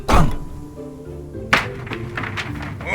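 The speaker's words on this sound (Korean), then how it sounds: "그래서 장검 칼자루로 근엄하게 문을 두드렸다." Solid thuds of a longsword hilt knocking against a door, an audiobook sound effect: one heavy knock at the start and another at mid-clip, followed by scattered lighter taps and echoing resonance, close and loud, with no voices.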